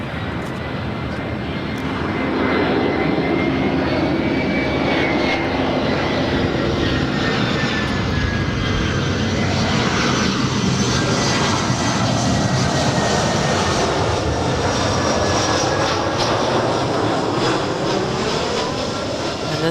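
An American Airlines Airbus A319 arriving from Vancouver comes in to land at LAX, a loud steady jet roar that swells after the first couple of seconds and holds with a slowly shifting whine, with some talk underneath.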